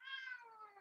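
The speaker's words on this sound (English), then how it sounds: "that's my cat" A house cat gives a single drawn-out meow, clear and fairly close, with a bright opening that slides downward as it fades, heard alone without talk.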